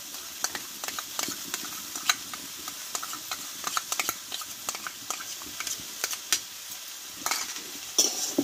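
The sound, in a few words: stirring and frying fried mung dal in a pan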